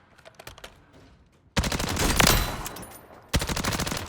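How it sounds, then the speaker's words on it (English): The Jak Cutthroat automatic weapon fires in Warzone's firing range in two long, loud, rapid-fire bursts of sharp cracks, separated by a pause with a few scattered clicks. "So I go with the Jack Cutthroat. And here it is in the firing range."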